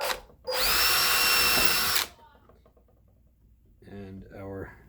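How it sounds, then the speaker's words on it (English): A power drill bores a center pilot hole while a USB arcade spinner is being installed. One loud, steady whine lasts about one and a half seconds up close, then a voice talks afterward. "we'll go ahead and drill our center pilot hole"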